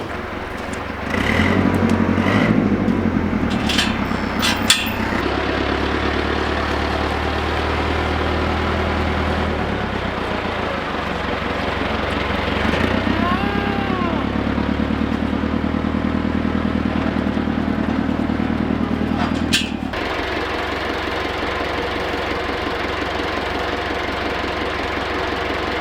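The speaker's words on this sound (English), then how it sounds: "we have the tractor all warmed up" A warmed-up farm tractor engine idles steadily close by, a continuous low rumble with a knocking, clattery edge that surges slightly now and then, with a sharp clunk partway through.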